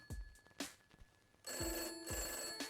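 A telephone rings in a detective adventure video game after a number is dialed, several repeated electronic ring bursts with short gaps, clear and close, with no talking.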